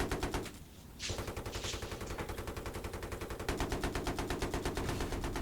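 Rapid automatic gunfire in Battlefield 3 rattles out as a loud, steady stream of evenly spaced shots after a short gap near the start.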